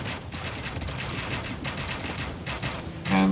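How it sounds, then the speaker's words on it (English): Bombard cannons fire in an Age of Empires match, a rapid cluster of overlapping booming blasts rolling through the battle din, with sharp bursts near the start, middle and end. "These bombard cannons are waiting for them."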